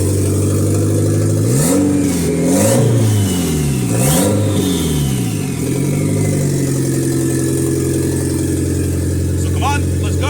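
A turbocharged eBay EM2 car engine revs repeatedly through a loud, rough exhaust, rising and falling in pitch over several throttle blips with a faint turbo whistle, then settles to a steady idle.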